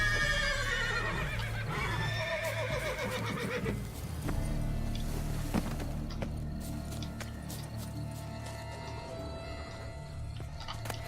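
A horse in The Witcher 3 video game whinnies loudly with a wavering, descending call, followed by snorting and soft hoof clops against a low background hum.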